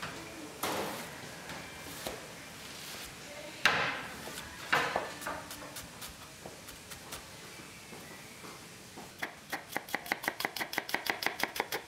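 A knife chops on a cutting board with scattered single cuts and knocks at first, ending in a fast, even run of about fifteen crisp taps, close and fairly quiet.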